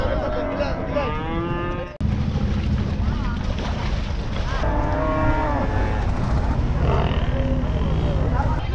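Cattle being unloaded from a trawler at the Hazratpur Qurbani cattle market bellow in several long, loud moos, nearby and repeated, over a steady din of crowd noise and wind.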